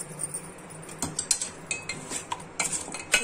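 A spoon clinks and scrapes against a bowl as chicken pickle ingredients are mixed with lemon, giving a brisk run of close metallic taps and stirring sounds.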